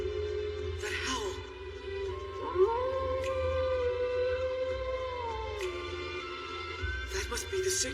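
A drawn-out dog howl from an anime rises and holds as a long wavering tone over a low rumbling background, with brief sharp accents at either end and no speech over it.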